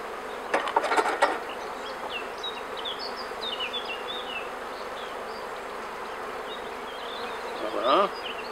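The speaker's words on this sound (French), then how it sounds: "les abeilles montent naturellement à cet endroit-là" Honey bees buzz in a steady, dense drone from an opened hive during a queen replacement, with close individual bees flitting past. A few brief knocks or clicks come early on, and a faint voice is heard near the end.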